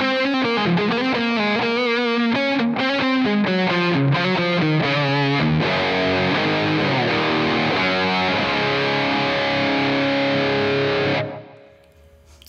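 Heavily distorted electric guitar through a Mesa Boogie Triple Rectifier model in AmpliTube 5, quick riffing that gives way to a long, loud sustained chord, then cuts off abruptly near the end.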